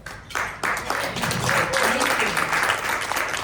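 Audience at a Republican women's meeting breaking into applause, swelling quickly from a few claps into a sustained, dense round with some voices and cheering underneath.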